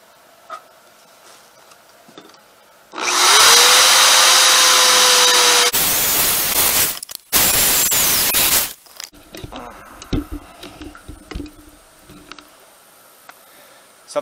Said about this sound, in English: It's a 120 volt, you know, plug-in drill, Craftsman, and it works as good as the day that I got it.